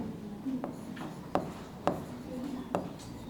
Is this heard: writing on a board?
yes